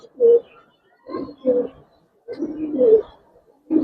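Giribaz pigeons coo nearby in a series of low, throaty bursts, some short and some drawn out, separated by brief silences, with no talking over them.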